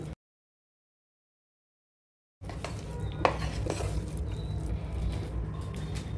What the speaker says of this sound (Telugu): ఈ పప్పు బెల్లం రెండు బాగా మిక్స్ అయ్యేలాగా కలుపుకోవాలి